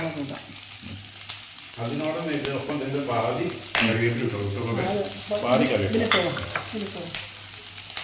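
Onions and green chilies sautéing in a pan for an egg stew, a continuous sizzle with stirring scrapes throughout, while a voice talks over it.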